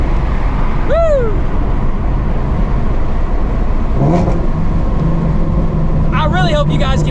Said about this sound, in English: This car is loud. Catless long tube headers.